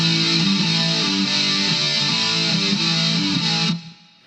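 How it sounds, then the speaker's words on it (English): Electric guitar through a Boss ME-20 with distortion and chorus on rings out in a dense, shimmering run of overdriven chords, steady and loud for nearly four seconds before cutting off sharply. "And then let me add a little chorus."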